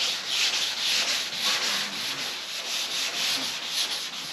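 Close wet sanding on a 1967 Chevelle wagon body with soaked sandpaper gives repeated back-and-forth rasping strokes in a steady rhythm, uninterrupted by voices.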